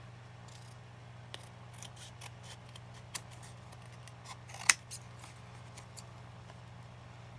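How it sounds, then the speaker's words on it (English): Large scissors snip through a paper privacy envelope, producing soft, scattered crisp clicks and rustles at close range, one sharper snip standing out, over a faint steady background hum. "I'm using my big scissors and I probably should be using my smaller ones"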